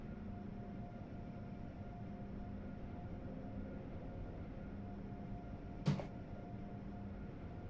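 An Acela train runs in Train Sim World 3, a steady low hum and drone with a faint tone, broken by one brief sharp clunk partway through.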